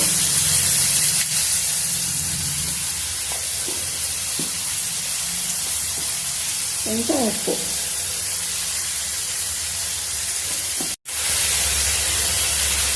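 Chicken frying in oil over a high flame on a home stove gives a steady, close sizzle and hiss throughout, with a brief voice speaking partway through.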